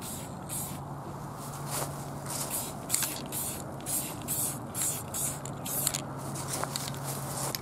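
Short hissing bursts of spray paint hit the carbon-coated edges of a DIY monitor screen, coming in a rapid rhythmic run of close, crisp sprays over a faint low hum.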